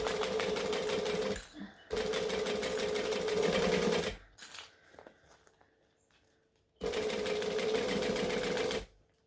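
A sewing machine stitches fabric for a bag in three loud, steady bursts of rapid needle chatter, separated by quiet pauses with faint handling sounds.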